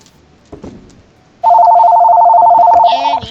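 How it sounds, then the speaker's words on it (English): In the Stardew Valley video game a telephone rings loud and close with a steady, warbling electronic trill that runs about two seconds after a short stretch of quiet speech. "And I have a phone call."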